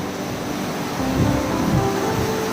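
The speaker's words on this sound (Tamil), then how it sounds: "அதை சுற்றி ஆற்று நீர் ஆர்ப்பரித்து கொட்டும் அழகிய காட்சி" Floodwater of a river roars over the Thirparappu waterfall, a broad steady rushing wash that swells slightly midway, continuous and fairly loud with no voices.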